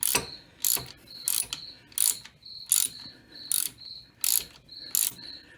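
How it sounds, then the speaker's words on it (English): Crickets chirp in regular rhythmic bursts of bright, high-pitched sound, about eight evenly spaced pulses, with a steady whistling tone between them, close and fairly loud. "Those crickets are pretty annoying, but I can't get rid of them."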